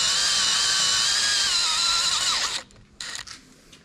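A power drill whirs steadily at high speed while installing a part on a Mercruiser Cool Fuel 3 fuel system, running loud and continuous for about two and a half seconds before cutting off into brief, quieter tool clicks.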